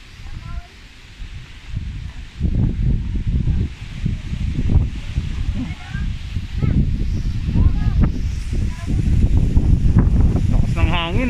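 Strong, cold wind on a rainy hillside buffets the microphone in repeated rough gusts, loud and close, with rustling and a voice speaking intermittently over it.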